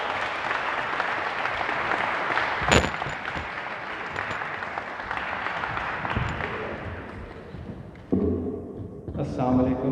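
Audience applause at a poetry gathering in Tooting, London, welcoming a poet: a dense, sustained wash of clapping with a sharp knock partway through, fading near the end as a voice begins speaking.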